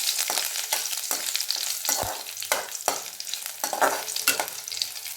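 Bay leaf, spices, crushed garlic and curry leaves fry in hot oil with a constant close sizzle, broken by repeated scraping and stirring clatters from a utensil in the pan.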